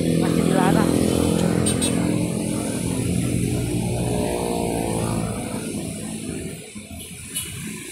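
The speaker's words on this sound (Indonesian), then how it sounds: "Banyak banget ya pengendara yang nunggu motor lewat tuh" Motorcycles passing on a busy Jakarta street, a loud buzzing engine drone that swells and fades as bikes go by, under a person talking.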